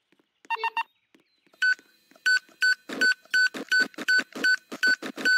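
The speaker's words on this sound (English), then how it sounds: "I hear beeping sounds again" Electronic beeps ring out in the Roblox game Build a Boat, a short burst followed by a quickening series of sharp tones repeating alone.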